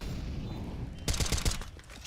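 A rapid burst of gunfire in a Counter-Strike match, a tight cluster of sharp shots lasting about half a second that rises over a steady, noisy game background.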